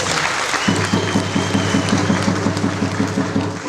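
A crowd claps steadily and warmly for a regional commissioner at a Yanga club event in Dar es Salaam, the applause sustained and dense throughout.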